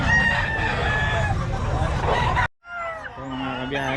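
Roosters crow loudly at a gamefowl market in Bocaue, their calls overlapping one another with clucking and crowd chatter, broken by a short gap before the crowing resumes.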